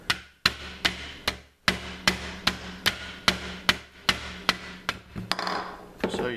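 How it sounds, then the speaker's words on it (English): Repeated sharp taps of a cushioned hammer handle knocking a grip off a CZ Scorpion Evo 3, about a dozen evenly spaced close, loud knocks with no talking. "I'm using the cushioned handle off of a hammer."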